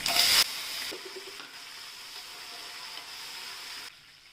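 Red and green chillies, curry leaves and garlic hit hot oil for a spinach dal tempering, giving a loud sizzle at first that settles into a steady, quieter frying hiss.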